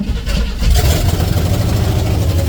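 A 1982 Chevrolet C10 truck engine catches after a brief crank and settles into a loud, steady running rumble up close, with a slight rise in revs as it takes hold.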